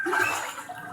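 Rushing floodwater pouring into a house in Lagos during heavy rain, a close, steady gush and splash without pause through the short moment.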